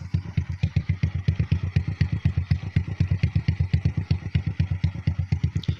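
Honda Blade 110 motorcycle engine running at idle through an exhaust fitted with a dB killer, a close, steady rhythmic low putter with even pulsing beats.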